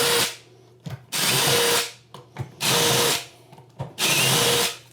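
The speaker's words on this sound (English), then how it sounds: "We're going to pre-drill some holes." A power drill pre-drills holes while a toilet is fitted to its flange, running in three loud, sustained bursts with short pauses between them, heard alone and close up.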